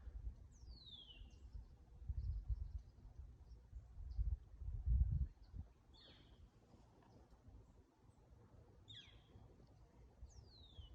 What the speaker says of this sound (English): A few warblers chirping.